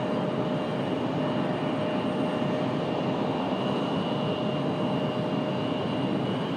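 A Breeze Airways jet at Raleigh-Durham airport gives off a continuous, fairly distant engine roar with a thin steady whine on top, no voices present.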